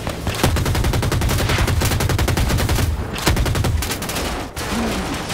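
Rapid automatic gunfire in the shooter game Battlefield 2042, loud and close, with dense bursts of shots repeating almost nonstop and brief gaps between volleys.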